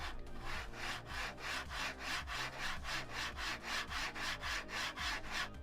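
Linear rail carriages slide back and forth on a Neptune 4 Max 3D printer under construction, giving a steady, close rhythmic rasping whoosh about twice per second, a wood-like rubbing texture with a low hum underneath and no talking.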